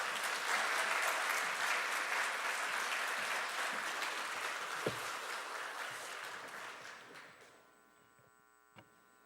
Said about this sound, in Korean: 처음이니까 여러분들 나올 때 박수로 같이 환영해 주시기 바랍니다.